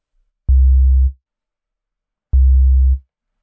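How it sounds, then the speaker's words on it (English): Deep sub 808 bass patch built in Massive X and pitched down two octaves, two identical booming low notes about two seconds apart, each holding briefly before cutting off, with no other sound. "so minus 24 to get to that subby 808 that we want."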